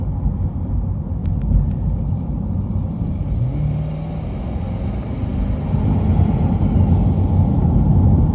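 A twin-turbo C8 Corvette's exhaust, with factory cats and factory exhaust, hums with a steady, deep rumble, rising slightly in intensity toward the end, with no voices present.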